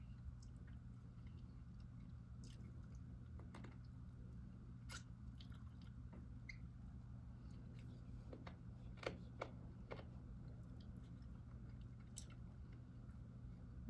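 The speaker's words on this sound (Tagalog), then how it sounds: "Malutong yung ating manok, guys." Someone bites and chews crispy fried chicken close to the mic, with scattered sharp crunches over a steady low hum, quiet and intermittent throughout.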